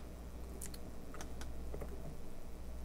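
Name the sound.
typing on a computer keyboard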